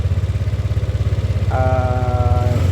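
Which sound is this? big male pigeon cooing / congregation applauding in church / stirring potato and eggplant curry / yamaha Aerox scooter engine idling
yamaha Aerox scooter engine idling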